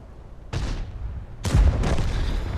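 Artillery barrages in a video game battle: two heavy booming blasts a second apart, the second louder with a deep low-end thump, each trailing into a rumbling decay with no voices.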